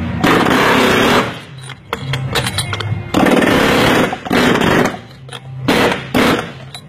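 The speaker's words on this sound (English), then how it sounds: "You don't necessarily have to use an air hammer to get an oil filter off" Loud bursts of rapid pneumatic air hammering on an oil filter to remove it, several separate runs with brief pauses between them, close by and harsh.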